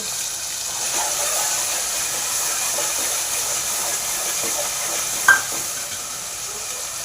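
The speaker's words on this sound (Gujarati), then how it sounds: "પછી આમાં આપણે ઝીંગા નાખીશું, બરાબર." Prawns cooking in gravy in a pan, a steady close sizzle and hiss with stirring throughout and one brief louder clink near the end.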